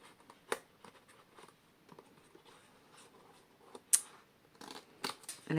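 Scissors snip through paper cutouts for a forest-themed collage: a sparse series of short, close clicks and crisp cuts at uneven intervals, fairly quiet, with a slightly louder rustle near the end and no speech.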